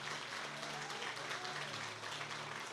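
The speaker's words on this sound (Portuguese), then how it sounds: "Podemos dar uma salva de palmas para Jesus pela vida deles?" Congregation applause during a Communion service in a church, a soft, fairly quiet spatter of clapping that lasts under three seconds, with a faint hum beneath it.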